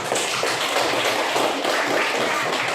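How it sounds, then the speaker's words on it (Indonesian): A junior high school class clapping hands together in a classroom math lesson, a loud continuous patter of many claps with no pause, with faint voices underneath. "tepuk tangan dulu untuk Vino."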